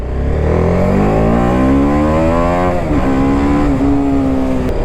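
A 2023 TVS Apache RR 310 motorcycle accelerating hard on an open road, loud and close, its engine note climbing steadily through the gears with a brief dip at a shift, no talk.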